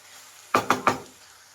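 Capsicum and tomato are stirred in a pan, heard as three quick, close knocks of a spoon against the pan in quick succession, with quiet before and after.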